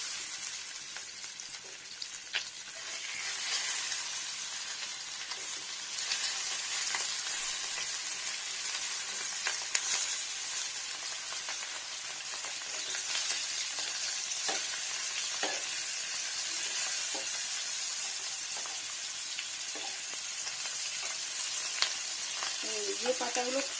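A fish-egg paturi wrapped in gourd leaves fries in a pan with a continuous, even sizzle of hot oil, faint and close, with no voices.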